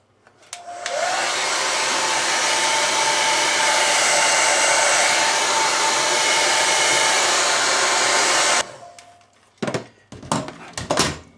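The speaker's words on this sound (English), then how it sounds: "I then use an air dryer and blow dry them." A hair dryer switches on and blows with a loud, steady whoosh for several seconds, drying washed air gun pellets, then cuts off, followed by a few bumps and clatters.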